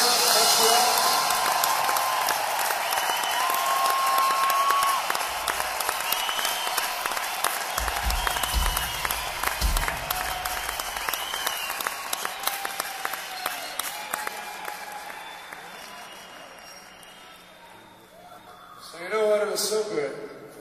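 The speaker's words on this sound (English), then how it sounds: "Let's applause for the set." A large concert audience at the Bell Centre in Montréal claps steadily after a set with symphony, a broad, continuous wash of applause with a brief surge of cheering near the end.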